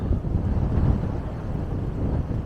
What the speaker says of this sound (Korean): 바람 소리가 근데 아주 좋네요